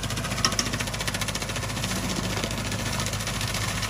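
A Sonalika 75 hp tractor drives a Chopking banana shredder, its engine chugging in a steady rapid pulse with a rattling, knocking mechanical texture, moderately close and continuous.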